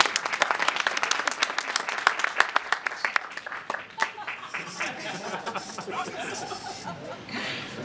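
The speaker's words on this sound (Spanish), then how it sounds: "Un tibio aplauso." Brief, half-hearted applause from a comedy club audience, with some chuckles mixed in; the clapping is fairly loud at first, then fades after about four seconds into scattered murmurs and a little laughter.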